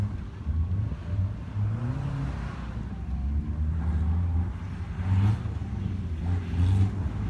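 A black Chevrolet off-road race truck, number 11, accelerates during a Thailand off-road championship round, its engine droning and revving at moderate distance in a steady, continuous run.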